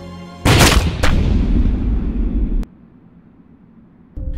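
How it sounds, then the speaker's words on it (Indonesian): A gunshot from the Ip Man film cracks out loudly at close range, then booms and rumbles into a long decaying echo, with a second sharp report a moment later and a brief hit near the end. "Tapi tiba-tiba saja, Ip Man ditembak oleh Satu tepat di dadanya."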